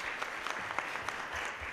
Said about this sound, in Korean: 우리 다시 한번 박수로 맞이해 주시기 바랍니다